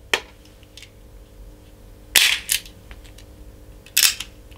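A Gomm Cogne GC 54 defense gun firing rubber balls gives three sharp, loud cracks spaced about two seconds apart, each with a short snap and brief tail, over a quiet low hum.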